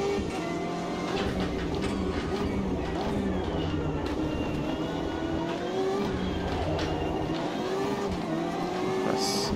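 Simulated BMW M8 GTE race car lapping Silverstone in Automobilista 2, a steady loud engine drone with shifting whine and gear changes running continuously throughout.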